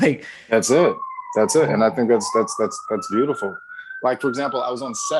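A police siren wails outdoors on a New York City street, a steady rising and falling tone running under close conversation throughout.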